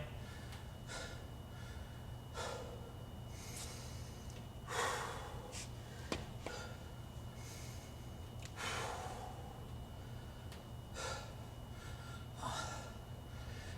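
Heavy, effortful breathing during a wall sit exercise, sharp gasping inhales and snorting exhales repeating every second or two, close and fairly loud over a low steady background hum.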